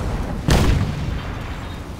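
Car blowing up in the video game Crysis Warhead, a single deep booming blast that hits suddenly and then rolls off into a rumbling roar, loud and close with no speech.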